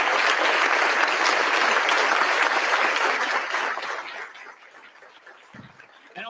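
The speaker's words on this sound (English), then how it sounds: "How about a round of applause for our board members?" Audience applause for school board members at a district address, loud and sustained for about four seconds before thinning out into scattered claps.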